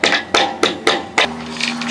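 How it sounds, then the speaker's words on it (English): A hammer strikes five times in quick, uneven succession, sharp close knocks on what sounds like wood, followed by a brief tonal ring and light handling noise. "There's a hammer."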